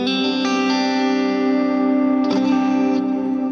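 Electric guitar on a clean rhythm tone from a Line 6 Helix patch for a worship song: sustained ringing chords with chorus and echo shimmer, a couple of fresh strums mid-phrase, loud and close, no talk.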